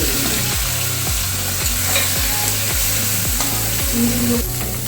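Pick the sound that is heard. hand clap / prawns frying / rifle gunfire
prawns frying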